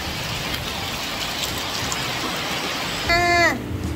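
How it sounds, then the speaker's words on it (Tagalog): Heavy rain pours in a dense, constant roar, and a brief vehicle horn or engine tone sounds near the end. "pero ganito kalakas yung ulan."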